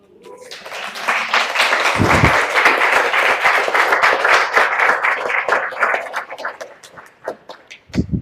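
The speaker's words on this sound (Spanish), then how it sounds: "Ese aplauso es para Dios." A congregation applauds after a sermon, with clapping building quickly into a loud, dense ovation that sustains for several seconds before thinning into scattered claps and a couple of heavy thumps at the end.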